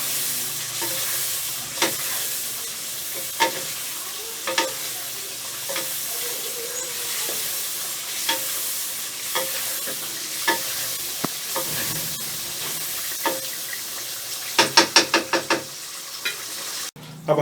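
Karahi chicken sizzles steadily in a pan while a utensil stirs it, with scattered scraping clicks throughout and a quick burst of rapid metallic taps near the end; no talking.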